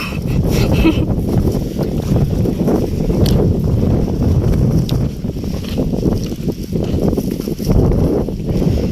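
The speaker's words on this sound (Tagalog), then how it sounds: "Malakas na po ang ano hangin." Strong wind buffets the microphone in a constant low roar, gusting unevenly throughout with no clear voices.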